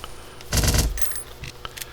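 FAMAS rifle gunfire from the video game Blockade 3D, a short loud burst of rapid shots followed by fainter scattered clicks and pops.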